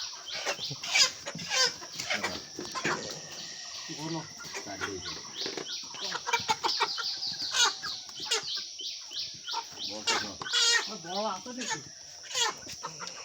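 Chickens being caught for sale cluck and squawk repeatedly at close range, agitated calls overlapping throughout, with people talking over them.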